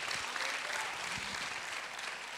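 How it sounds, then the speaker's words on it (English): Church congregation clapping steadily for a couple of seconds during a worship service, a dense even patter of many hands at moderate distance, with no talk over it. "just give the Lord a big clap"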